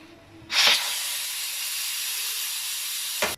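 Steam hisses loudly and steadily from a pressure cooker after its weight is lifted, with a sharp initial burst, a sustained rush for nearly three seconds, then an abrupt stop, heard alone.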